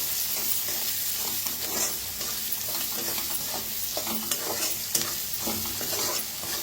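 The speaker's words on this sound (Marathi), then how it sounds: "धना पावडर एक चमचा। आता याला छान भाजून घेऊया।" Red chilli powder and coriander powder roasting in a pan, a continuous close sizzle and frying hiss with scattered stirring scrapes throughout.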